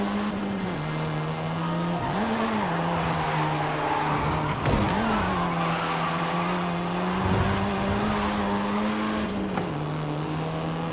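A seventh-generation Volkswagen Golf R driven in Forza Horizon 5 gives a steady, loud engine drone, with pitch dips at gear shifts and brief tire noise as it keeps accelerating.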